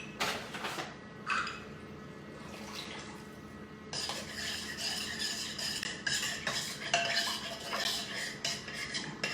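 A fresh spoon stirring cornstarch into broth in a pan, steady clinking and scraping against the metal with bubbling, close and continuous, no talking.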